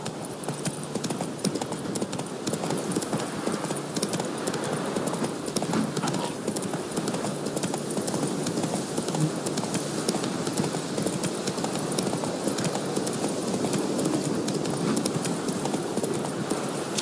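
Steady galloping hoofbeats from Roach, the horse in The Witcher 3, drum on without a break at a loud, close, even level, with a bit of ambient game noise beneath.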